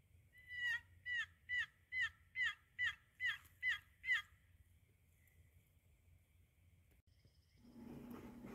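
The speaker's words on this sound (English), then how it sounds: "We heard gobbling from the roost, but no birds were in sight." A wild turkey gobbles from its roost during a spring hunt, about nine quick rattling calls in a steady rhythm at moderate distance, then fading into quiet woods with a faint rustle near the end.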